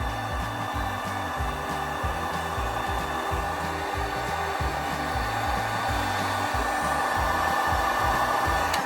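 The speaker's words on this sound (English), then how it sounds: "this heat gun's working already" A heat gun blows on seam sealer on an EM1 Honda Civic, a loud continuous close-up airy whir over a rhythmic low pulsing drone, with no talking.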